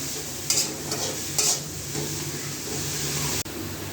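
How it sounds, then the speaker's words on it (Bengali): Coriander leaves frying and being stirred in a pan for a Bengali coriander bhorta, a steady sizzle with scraping stir strokes near the start and middle, close and moderately loud. "আমার ধনেপাতা ভাজা শেষ হয়ে গেছে"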